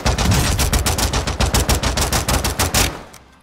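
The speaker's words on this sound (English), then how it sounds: "And these are the new pistols that come in akimbo, I guess." Akimbo ISO 45 pistols in a shooter game, Tomb Raider variant: a loud, fast stream of rapid gunshots for about three seconds, then an abrupt stop and a short fading tail.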